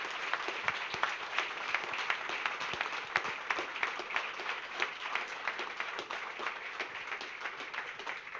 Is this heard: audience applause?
yes